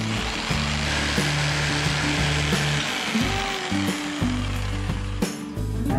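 A power saw cuts through pallet wood with a loud, steady whine and rasp lasting the whole stretch, briefly dipping near the end, with no talking.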